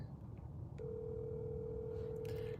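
A steady telephone tone sounds during a call to voicemail, holding for almost two seconds over quiet room noise, with faint clicks before it and a brief burst at the end.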